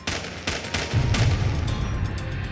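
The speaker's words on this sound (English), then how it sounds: "The moment he started racing back to the house, gunfire erupted." A burst of gunfire erupting near a house, with several sharp cracks in quick succession followed by a heavy, rumbling low roar, loud and close.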